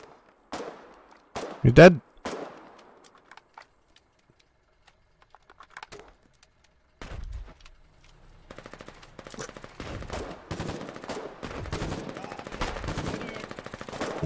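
Gunfire in the war game Foxhole: sharp shots and bursts ring out early, then after a lull a dense, continuous barrage of rapid automatic fire and impacts fills the rest, with a shouting voice briefly over it.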